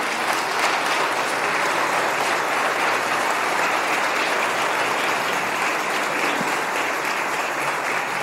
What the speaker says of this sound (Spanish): Denle un aplauso al Señor y denle gracias.